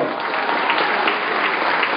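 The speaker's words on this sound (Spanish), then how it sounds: "Fuerte el aplauso." A crowd at a political assembly of the Morena party in Xochimilco applauds loudly, a thick wash of clapping that continues steadily for a couple of seconds.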